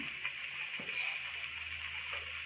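Rava chakli, a semolina snack, fries in hot oil: a steady, soft sizzle and fine bubbling hiss that continues without a break, fairly quiet, with occasional small crackles and no talking.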